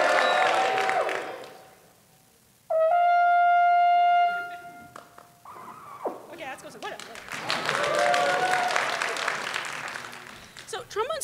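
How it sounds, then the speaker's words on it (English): At a trombone talk, a live audience cheers and claps in two broad bursts, with a sustained trombone note played loud and high between them. "Can you cheer for me just to help me?"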